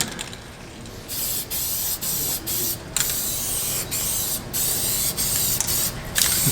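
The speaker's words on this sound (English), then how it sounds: "It's one thing about spraying horizontal, you could really fill it in nice." A spray can sprays finish onto a dyed-rim wooden platter in short, loud hissing bursts separated by brief pauses, close up and with no voices.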